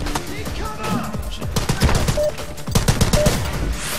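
Shotgun fire in the shooter video game The Club, played on an Alcatraz assault level: rapid, closely spaced bangs, loud and near, with a little background chatter.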